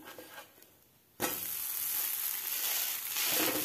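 Dosa batter on a pan with a little oil added, starting with faint kitchen sounds, then a sudden bright sizzle as the oil hits that keeps hissing steadily and close up, no one speaking.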